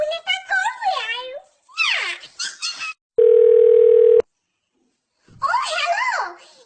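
Telephone dial tone while placing a phone call, a single steady electronic tone held for about a second, framed by a child's speech before and after it.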